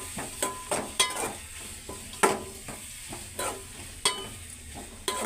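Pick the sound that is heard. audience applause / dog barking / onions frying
onions frying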